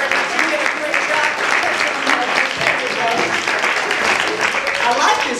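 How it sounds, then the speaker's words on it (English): Audience at a magic show at Coney Island applauding a volunteer, a full, sustained round of clapping from a crowd that stays loud and even throughout, with a voice faintly underneath. "give him a nice big round of applause."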